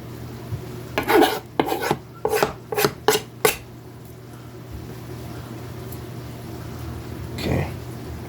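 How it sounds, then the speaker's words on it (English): A utensil scrapes cooked onions in a pan for smothered liver and onions, producing six or seven quick rasping strokes in a burst. After a quiet stretch, a fainter stroke follows. "Scrape up all this onion trash."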